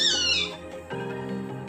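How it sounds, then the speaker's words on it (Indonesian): A pet cat meows at close range, one long drawn-out call that falls in pitch and then a second, lower, sustained meow, loud and on its own with no talk. "itu suaranya yang seperti kucing itu maaf sedikit mengganggu ya"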